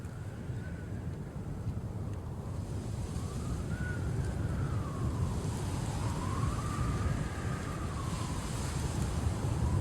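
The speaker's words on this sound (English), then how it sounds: "We have lots of wind here." Steady rushing wind on a hill in VRChat fills the scene, with a faint rising and falling whistling tone drifting over the roar.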